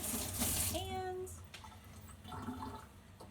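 Hands are rinsed under running tap water, a brief close splash of rushing water that fades to a faint trickle within a second or so.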